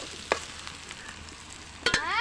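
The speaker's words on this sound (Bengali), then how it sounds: "পেঁয়াজগুলো বেশ অনেকটাই ভাজা ভাজা হয়ে গেছে দেখুন। এবারে আমি এখানে একে একে মশলাগুলো দিয়ে দিচ্ছি।" Onions sizzle steadily in a pan as chili powder, turmeric and salt are added, a close hissing fry punctuated by a few sharp clinks and knocks of a spoon against the pan.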